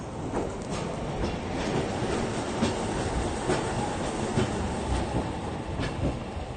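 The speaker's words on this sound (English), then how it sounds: "That's the peak tram, bringing about 200 tourists per car up here to the peak." The Peak Tram hauls tourists up to the Peak in Hong Kong, a steady rumble of rail cars with rhythmic wheel clicks, close and continuous, with no talking.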